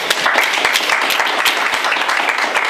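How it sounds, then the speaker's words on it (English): Audience applause at a small-town candidates night for selectmen in Clinton, a steady, dense clapping that fills the room from start to finish with no voices over it. "Round of applause."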